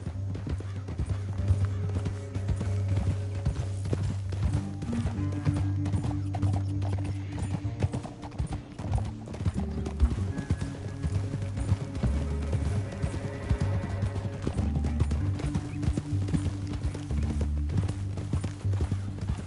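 Horses walking at an unhurried pace, hooves clip-clopping steadily on hard ground amid a busy background, with a whinny or two and no talking.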